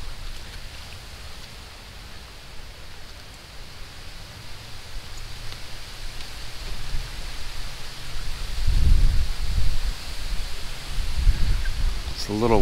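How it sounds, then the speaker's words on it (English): Wind blows outdoors on a Florida day around Muscovy ducks and ducklings, a steady rushing hiss with deeper buffeting gusts that swell toward the end. "it's a little windy today"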